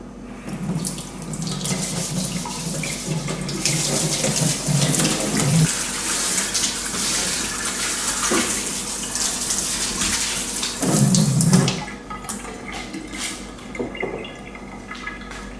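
Water runs steadily from a tap into a sink to rinse it, a close, continuous hissing splash with a few shifts where the stream hits differently.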